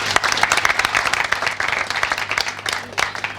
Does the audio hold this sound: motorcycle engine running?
no